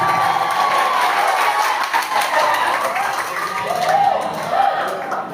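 Loud, sustained applause and cheering from an audience of junior high school students in a school hall, a dense wash of clapping with shouts mixed in throughout.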